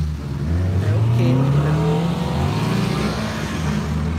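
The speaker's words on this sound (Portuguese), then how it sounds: "Maísa, que carro é aquele branco que passou?" Cars passing on a road, engines rising and fading as they go by close up, loud and continuous with rumbling tire noise, no talk.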